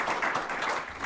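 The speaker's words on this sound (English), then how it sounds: "Please give them a round of applause." An audience at a legal seminar roundtable claps for the panelists in a short, dense burst of applause that fills the room evenly.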